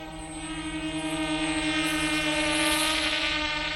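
A LYZRC L100 toy drone that flies very poorly, giving off a steady, high buzzing propeller whine that swells slightly as it hovers nearby, with no talking.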